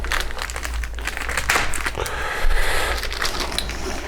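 Hand-applied tape peels off a board game scoreboard box with continuous crinkling and tearing crackles, up close and steady for several seconds, and no voices are heard.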